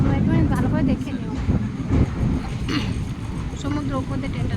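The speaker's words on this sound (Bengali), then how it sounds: "ট্রেনটা যাচ্ছে সমুদ্র উপর দিয়ে" A train moves slowly across a bridge over the sea with a low, steady rumble and faint rhythmic clatter, heard beneath a person talking nearby throughout.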